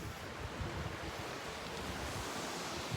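Ocean waves wash onto a small beachfront at a Fiji hostel on Denarau Island, a steady, full roar of surf with wind noise rumbling against the microphone, no voices.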